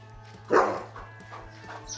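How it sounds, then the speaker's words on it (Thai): A dog at a home plagued by pigeons lets out one sharp, fairly close bark, followed by a few fainter yips over a steady low mechanical hum. "ไอหวังมันก็จะเห่าตลอดครับ"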